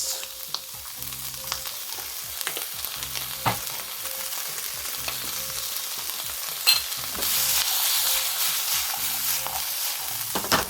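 Pechay stir-fried with soy sauce in a pan hisses loudly and continuously up close, with repeated scraping stirs and clicks of the utensil, the sizzle swelling louder toward the end, no talking.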